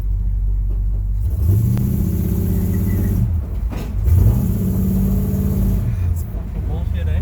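A 1969 Chevy Caprice with a 427 big block engine revs hard twice, deep loud rumbling surges rising and falling over a steady idle, with people talking nearby.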